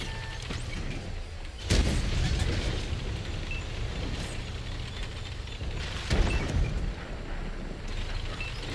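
A Centauro armored vehicle in World of Tanks firing HE shells, two heavy booming shots a few seconds apart over a constant engine rumble, with talk in between.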